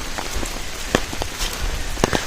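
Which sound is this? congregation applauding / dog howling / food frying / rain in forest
rain in forest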